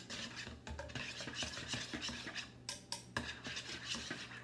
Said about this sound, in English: And we're stirring that in.